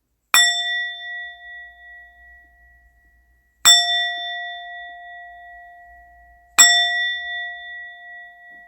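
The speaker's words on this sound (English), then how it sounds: "Before I continue, let me ring the bell." A bell is struck three times at slow, even intervals, each a bright clear ring that hangs and fades gradually in an otherwise silent space.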